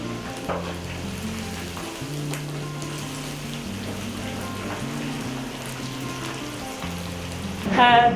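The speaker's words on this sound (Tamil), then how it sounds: "இப்போ ஃப்ரை ஆகிடுச்சுன்னு நினைக்கிறேன்" Chicken Manchurian pieces frying in hot oil, giving a steady, moderate sizzle throughout, over a looping musical backing, with a brief louder burst at the end.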